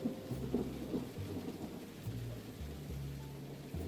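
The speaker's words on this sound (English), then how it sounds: "who wouldn't fall asleep to the sound of rain?" Rain falls steadily as a gentle hiss while deep thunder rumbles low and rolling in repeated swells, heard as a calm ASMR recording without talk.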